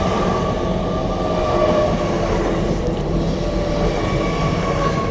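An LNER Azuma Class 801 train on a King's Cross to Edinburgh service pulls into York station, a loud, steady rumble of rolling wheels and carriages close by with no voices.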